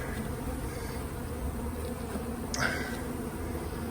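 Dense, steady buzzing of many honey bees close by, a continuous drone that swells briefly near the end.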